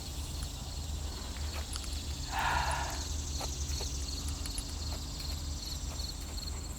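A horse moving quietly outdoors, with soft hoof sounds and a brief louder snort or shuffle in the middle, against a faint hum.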